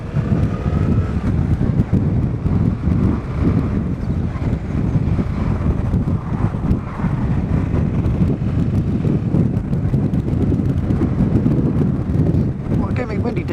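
Heavy wind buffeting roars steadily into the microphone of a rider on a Yamaha MT-07 motorcycle on a windy day, constant and loud throughout.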